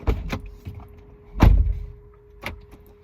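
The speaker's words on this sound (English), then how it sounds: "I gotta open up the door, y'all." A door is handled in a few separate thumps and clicks, with a louder knock-like bang in the middle and a faint steady hum underneath.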